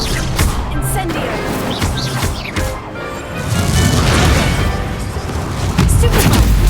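In the video game Hogwarts Legacy, an Incendio fire spell lands with loud booming, crashing impacts amid a busy duel, layered with other clashing effects and intermittent voices.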